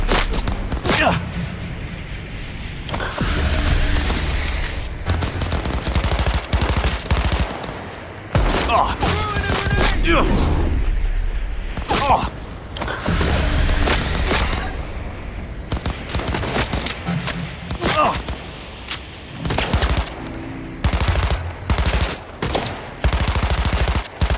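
Heavy gunfire fills a firefight in the video game Cyberpunk 2077 Phantom Liberty, with loud repeated blasts and bursts crowding over one another, while shouting voices break through the din.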